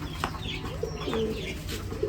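Pigeons cooing softly in a loft where eggs are kept, several low throaty coos scattered over a constant background hum, fairly close but not loud, with no voices.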